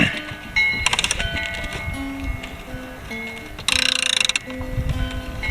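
A 12mm wrench works an old bolt on a 1967 VW convertible, giving close metallic ratcheting clicks and creaks in short bursts, with a rapid run of clicks near the end.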